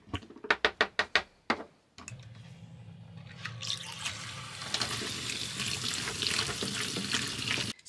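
Water runs steadily from a caravan tap, a continuous hissing splash that follows several sharp clicks or knocks and grows fuller midway.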